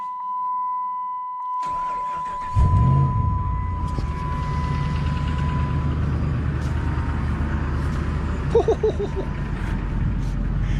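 A pickup truck engine cranks and starts after a short beep, then settles into a steady, deep exhaust rumble through a homemade dog-food-can muffler close by, with a few clicks and taps over it.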